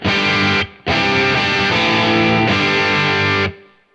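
An electric guitar plays loud, driven chords through a Marshall-style amp tone from an HX Stomp with a Tone King Imperial preamp, in two bursts with a brief gap, the second ringing out before cutting off.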